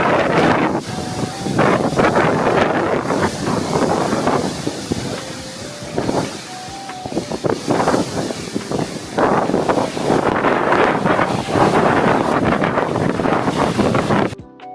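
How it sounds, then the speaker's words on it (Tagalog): Strong wind buffets the microphone at a beach park on Alona Beach in Bohol, a steady loud roar with gusts and possible surf beneath, continuing for the whole stretch with no talking. "Ang lakas ng hangin."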